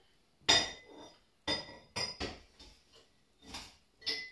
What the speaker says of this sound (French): ce que vous entendez, c'est simplement que je suis en train de mettre le saladier vide dans l'évier